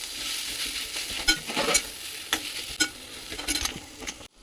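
Spoon stirring smashed boiled potatoes into a palak snack mixture in a hot pan: irregular scraping strokes sound close and clear over a light sizzle.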